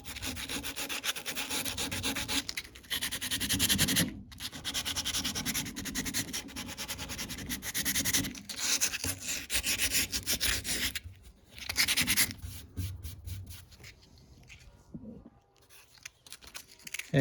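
A restored Porsche 914 body panel is roughened by hand sanding, giving a close, repeated rasping rub in strokes with a few short pauses, with no voices.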